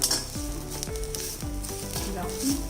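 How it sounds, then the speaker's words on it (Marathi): Grated dried coconut sizzles and sputters in a hot pan while being stirred for drumstick curry, a steady frying hiss with scraping strokes of the spoon, close and continuous. "आता हे थोडं गुलाबी होईपर्यंत चांगलं परतून घ्यायचं।"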